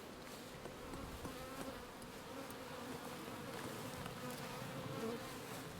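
Honey bees buzz steadily around an opened hive during a hive inspection, giving a continuous, fairly soft drone with no gaps and no talking.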